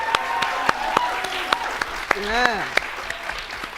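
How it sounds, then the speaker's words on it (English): An audience at a televised school quiz show claps in steady applause for the competing teams, with someone speaking loudly over the clapping. "Let's give our teams another big round of applause."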